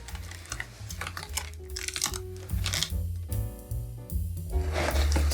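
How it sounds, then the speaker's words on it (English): A knife slices through a Chinese cabbage on a board for a salad, giving a run of crisp, crunchy cuts and crackles that are close and fairly steady, set against a background of music. "So I'm gonna cut the cabbage."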